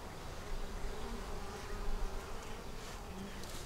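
Honey bees cover both sides of a newly built comb frame lifted from a hive during an inspection, a continuous close droning buzz with faint individual wingbeats flickering through it and no voices.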